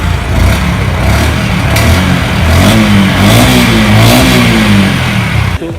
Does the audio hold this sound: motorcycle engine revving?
yes